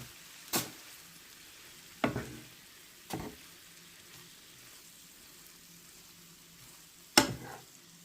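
Vermicelli and beef frying in a pan are stirred, giving a soft steady sizzle broken by four sharp scraping strokes spread out over several seconds.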